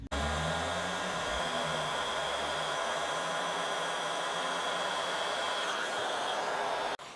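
Steady, loud blowing hiss of a heat gun heating material so it can be bent, a continuous close whoosh that runs almost the whole time and then cuts off near the end.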